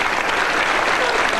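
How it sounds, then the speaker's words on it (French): A 1992 French TV studio audience at Les Grosses Têtes claps loudly and densely in continuous applause, with no voices over it. "Je crois qu'on va applaudir"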